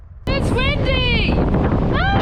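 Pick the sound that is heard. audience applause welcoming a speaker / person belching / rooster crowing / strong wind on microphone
strong wind on microphone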